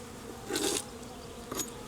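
Honey bees buzzing around a beehive: two short bursts of buzzing fly past close by, the first louder and longer, over a quiet background with no talk.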